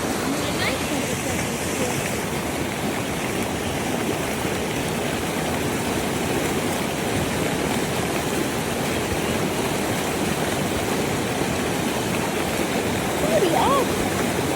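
Rushing water of a waterfall in a natural setting, a steady loud broadband roar throughout, with voices faintly mixed in near the end.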